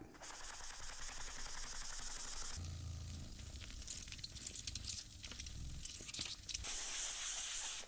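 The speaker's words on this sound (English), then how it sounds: "spray onto the corner of the foam eraser and then scrub" A short hiss of spray gives way to rough, rhythmic rubbing and scrubbing with a foam eraser on a chalkboard, fairly close, ending with another burst of hissing spray.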